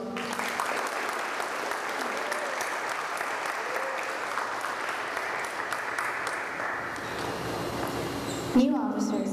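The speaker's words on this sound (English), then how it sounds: "Please give your new officers a round of applause." Audience at a National Honor Society induction ceremony applauding the new officers, a sustained wash of clapping from a room full of people that fades slightly toward the end, with a voice briefly heard near the close.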